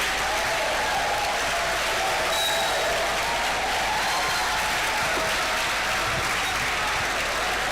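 Audience applause after a lecture on bankruptcy and corporate failure, a continuous hiss-like wash of clapping from a large hall, steady and fairly loud.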